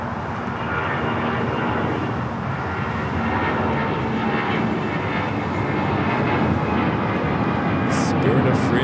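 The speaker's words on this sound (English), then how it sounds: "757 taking off to Salt Lake City" A Boeing 757, flight 8949, takes off from Los Angeles LAX for Salt Lake City with a loud, sustained jet roar close by that stays steady throughout, while a voice talks over it.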